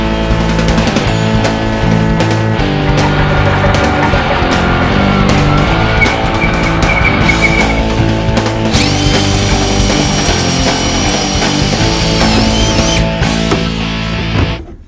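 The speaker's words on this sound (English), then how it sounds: "I'm going to drill 2 7/32 holes in order to mount the screw type bolts" A power drill whines continuously and loudly, its motor pitch shifting as it bites through a metal truck bed drilling 7/32-inch holes, with a higher squeal near the end.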